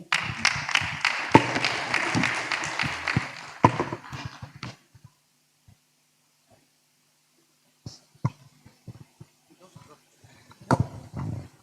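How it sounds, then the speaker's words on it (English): Applause at a workshop for a speaker, a burst of dense clapping for about four seconds that fades out, then silence and scattered claps and thumps later. "Please, another round of applause for Ms. Gunan Kakwa"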